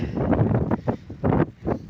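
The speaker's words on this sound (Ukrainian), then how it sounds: "Великий вітер, плюс сніг." Strong wind in a snowstorm at a greenhouse farm buffets and roars in gusts, rising and falling with heavy rumbling blasts close to the microphone.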